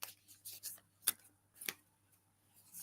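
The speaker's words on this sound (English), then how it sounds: "I'm just shuffling them for you." A deck of cards shuffled by hand during a psychic reading, with several soft riffling bursts and two sharp snaps close up, alone without talk.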